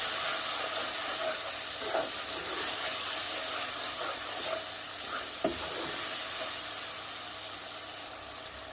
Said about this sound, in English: And I'll just stir that in